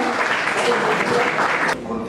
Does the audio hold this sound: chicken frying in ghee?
no